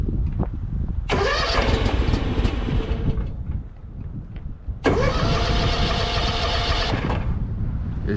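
A Kubota zero-turn mower engine cranks for about two seconds, pauses, then cranks again for just over two seconds without catching, loud and close with a steady grinding churn throughout.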